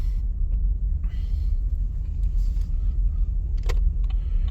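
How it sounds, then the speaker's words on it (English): A car driving around in a circle, heard as a steady low engine and road rumble with a few faint clicks and rattles on top, and no talking. "I'm driving around in a circle talking"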